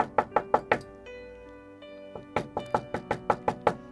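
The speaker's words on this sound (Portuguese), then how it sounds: "Tá escutando o pecado bater na porta?" Knuckles rap on a door in two quick bursts of about four sharp knocks each, then a longer run of rapid knocks after a pause, loud and close.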